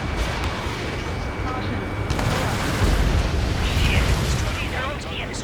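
In Ace Combat 7 a missile streaks away from a jet and detonates, with a sustained loud roaring rumble of engines and blasts; radio chatter runs over the noise.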